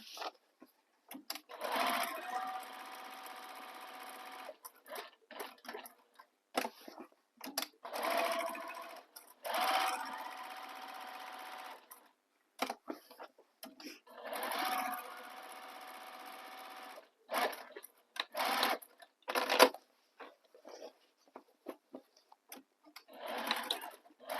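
A sewing machine stitches the side panel of a fabric bag, running in several short and longer bursts separated by pauses, fairly close and moderately quiet.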